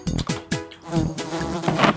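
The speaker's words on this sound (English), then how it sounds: "More bugs! It's filling with bugs!" Flies buzzing in a swarm in a pretend-play restaurant setting, loud whining drones that rise and fall in several close passes.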